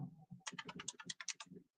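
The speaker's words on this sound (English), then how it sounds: "I'm gonna type this" Quick, soft typing on a computer keyboard: a burst of a dozen or so close, crisp key clicks in a fast uneven rhythm, with no talk.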